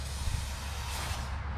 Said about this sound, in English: I spray them on there and then I'll come back and I'll work them around a little bit.